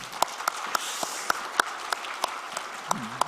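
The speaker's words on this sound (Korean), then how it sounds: "우리 박수 합시다." A church congregation applauding, a brisk, fairly even rhythm of sharp claps close by that continues steadily throughout without letting up.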